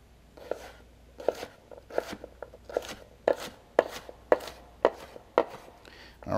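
A knife chops down through diced root vegetables on a cutting board in a steady series of about a dozen crisp, close knocks, with a slight crunch on each cut and no talking.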